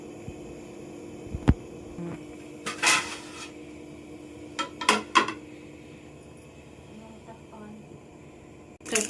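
Panipuri filling being mixed with salt in a bowl: scattered clinks and scrapes of a utensil against the bowl in short bursts over a low steady hum, with a voice speaking now and then.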